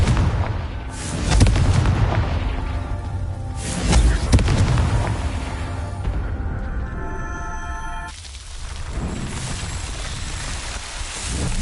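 Confringo fire spell explosions in the video game Hogwarts Legacy, two loud booming blasts a few seconds apart over a dense roaring game soundscape, followed by a quieter stretch with lingering rumble.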